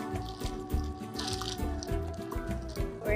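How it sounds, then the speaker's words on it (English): Stout poured into the middle of a Pilsner glass over a flavorant, with liquid splashing and dripping steadily close by over a busy, full background. "You now want to top with your stout, pour it in the middle"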